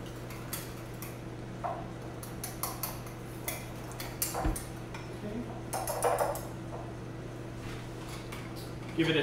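A whisk clinks and scrapes against a bowl while a honey mustard mixture for a pecan crust on lamb chops is stirred. The close, irregular clicking runs over a steady low hum with some speech.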